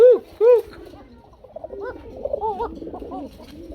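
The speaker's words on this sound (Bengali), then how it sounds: "ডাকে ভাই সারা রাত দিন চব্বিশ ঘন্টাই ডাকে ডিমের কবুতর" Egg-laying fancy pigeons at close range, giving several loud rolling coos, two strong calls at the start followed by softer, overlapping cooing from the flock.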